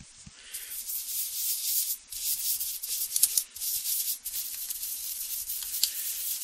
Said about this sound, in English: Get it all good and soaked down. And then we're going to scrub it.